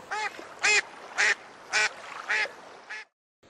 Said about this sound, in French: les canards et les oies viennent avec nous